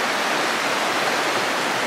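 River rapids rush in a steady, dense roar of water, loud and unbroken throughout, with no other sounds standing out.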